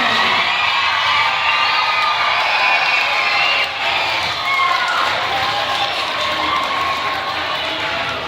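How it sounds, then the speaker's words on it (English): Audience applause and cheering for teachers at a school leadership day, a dense steady wash of clapping with shouts and whoops from many children, loud and continuous throughout. "give all your teachers and Mrs. Sato and Mr. Domingo a round of applause for all of their work"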